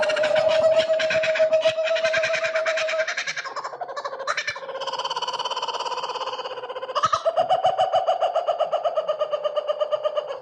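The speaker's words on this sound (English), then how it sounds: "a video of a real laughing Kookaburra" A laughing kookaburra in Hobart, Tasmania, calls in a loud, close, continuous run of rolling, chuckling cackles that rise and shift in pitch, with no other sounds around it.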